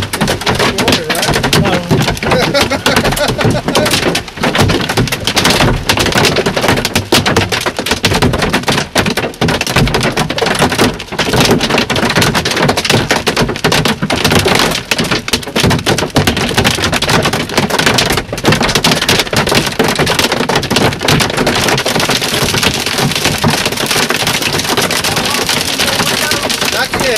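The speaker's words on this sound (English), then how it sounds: "Oh, there's a bigger hail. There's the biggest hail." Hail and rain pound hard surfaces in a Walker County hailstorm, a dense, loud, unbroken clatter of impacts lasting throughout, with voices partly buried under the din.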